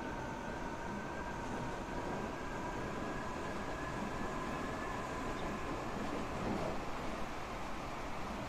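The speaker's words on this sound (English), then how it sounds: "I'm just being overtaken by a fast train." A fast train passing in the video game Transport Fever 2, a steady, dense rumble with a faint whining tone held throughout, loud and continuous without a break.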